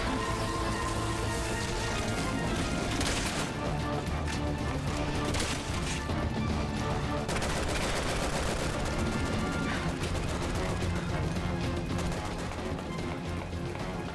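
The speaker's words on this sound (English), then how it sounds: "I'm trying to give you sniper support with a pistol." Pistol gunfire in the video game Resident Evil 6 crackles amid dense, loud in-game action, broadband bursts and clatter running continuously with no clear pauses.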